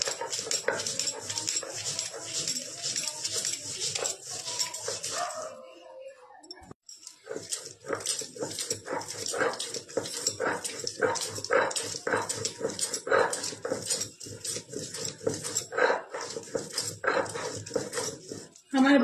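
Peanuts, green and red chillies and poppy seeds are ground into a paste with a run of rhythmic scraping and knocking strokes, close and fairly loud. There is a short pause partway through before the strokes resume.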